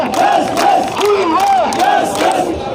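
Large crowd of daily wage workers chanting protest slogans in unison outdoors at a station siege in Company Bagh, Jammu, voices rising and falling steadily throughout without pause.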